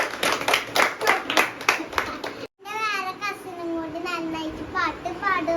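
Children clap in a quick rhythmic burst at home, close and bright, then stop abruptly and a voice talks in a sing-song way.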